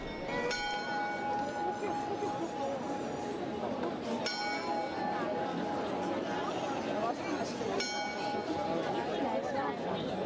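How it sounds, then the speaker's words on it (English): An astronomical clock's bell rings in a busy square, sounding in a few clear, spaced strikes over a steady wash of crowd chatter and people talking. "The cock crows and finally the bell rings."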